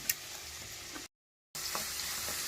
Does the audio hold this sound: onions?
yes